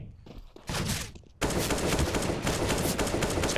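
AK rifle fire in a Counter-Strike match, arriving in dense, loud bursts that fill the clip after a quieter opening, with rapid overlapping shots and no talk.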